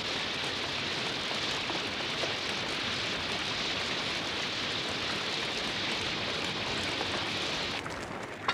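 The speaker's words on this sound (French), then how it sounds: "Cesse de regarder tomber la pluie." Steady rain falls continuously, a dense, even hiss of drops that stays loud and unbroken throughout, with no voices.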